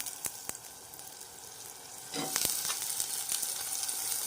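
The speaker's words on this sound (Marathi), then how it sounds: "आता शेंगा फ्राय करणार तेलात आणि मिठात" Drumstick pods sizzle in hot oil with salt, quiet at first with a few clicks, then a louder burst of crackling frying that keeps going.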